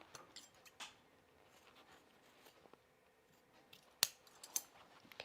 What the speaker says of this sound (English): All right, and now we'll trim it.